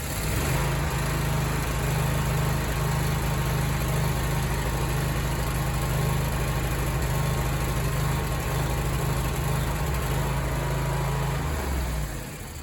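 A small engine with the choke on and only a little fuel in the tank fires up and runs at a loud, steady drone for about twelve seconds, then cuts out abruptly.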